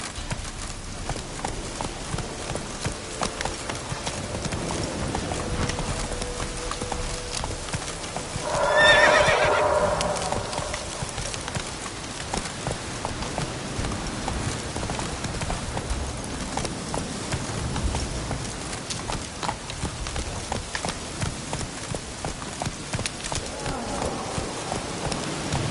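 A horse from The Witcher video game gallops with steady clip-clopping hooves and lets out one clear whinny midway, all under continuous ambient game sound and a rider's calls.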